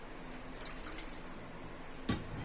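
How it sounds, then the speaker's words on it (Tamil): Tamarind water and plain water are poured into a pot for crab rasam, making a soft, steady liquid pour with light splashing and a brief clunk near the end, heard faintly and alone. "புளி தண்ணியை சேர்த்துட்டு கொஞ்சம் தண்ணி வந்து நம்ம சேர்த்துக்கலாம்"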